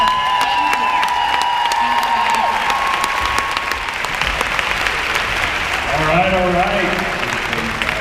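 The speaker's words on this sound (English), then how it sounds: "Can we give them one more big round of applause?" A conference audience breaks into loud applause with cheering and whoops, dense clapping filling the room while a voice speaks briefly and shouts rise near the end.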